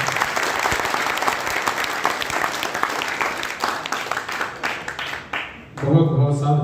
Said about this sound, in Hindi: अब ताली कुछ ठीक से